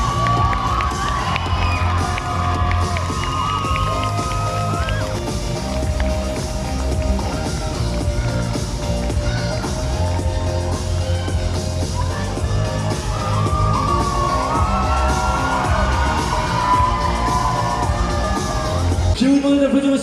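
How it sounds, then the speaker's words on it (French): A loud festival crowd cheers and whoops for cosplayers, with children shouting and music playing underneath, a busy, sustained roar lasting the full stretch. "applaudissez-les bien fort"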